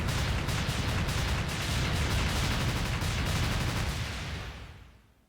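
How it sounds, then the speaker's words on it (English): Dense, continuous rumbling explosions and rapid gunfire roar loudly in the video game Freedom Planet, then fade away to near silence at the end. "Man, they like their explosions."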